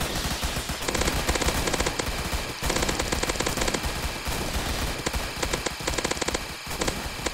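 A Gatling laser gun in the Roblox game Zombie Attack fires in long rapid bursts, a dense loud rattling stream with brief gaps, amid busy game noise.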